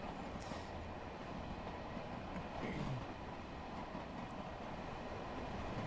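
A Long Island Rail Road M7 electric train in Train Sim World 2020 rumbles steadily along the track, a continuous dense rolling roar with faint clatter and no talk.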